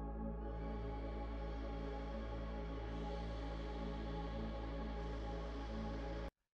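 A future trap layer of synth pad stacked over a deep Reese bass, a dense sustained wash with a steady low drone and slowly shifting chord tones, alone and unbroken until an abrupt cutoff.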